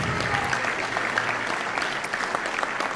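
An audience at a high school winter band concert applauds a symphonic band, a dense, even wash of clapping that carries on without a break.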